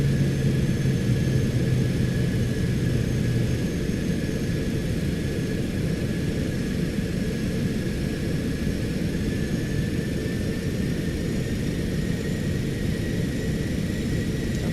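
Cessna Citation X business jet in a flight simulator, on approach with full flaps: a steady, loud engine drone and broadband rumble with a faint high whine, continuous and without talk.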